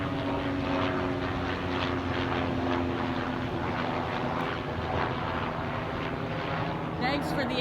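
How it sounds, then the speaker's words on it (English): A military helicopter passes low over rural property, its steady pulsing rotor and engine drone loud and sustained throughout the pass. "That was a military helicopter, folks. Flew right across my property, from left to right."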